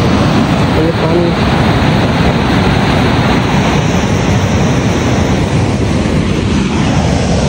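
Water rushes steadily along a canal shaded by large trees, a loud, continuous broadband wash with some wind buffeting the microphone throughout.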